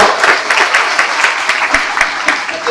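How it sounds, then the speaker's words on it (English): Classroom audience giving a big round of applause for a student during a talk on plastics, a loud, close burst of many hands clapping at once, steady and brief. "Give a big round of applause to her."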